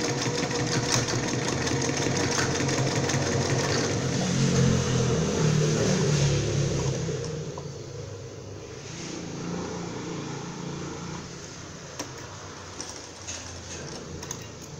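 A sewing machine runs a small zigzag stitch with reverse, a steady close mechanical whir that shifts in tone partway through as it goes back and forth, then continues more quietly.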